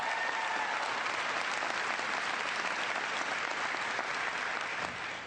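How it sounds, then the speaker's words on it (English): A town hall crowd in New Hampshire gives a big round of applause at a political event. The clapping is thick and continuous throughout, loud and sustained with no break, and it swells into a uniform roar of many hands. "Give her a big round of applause."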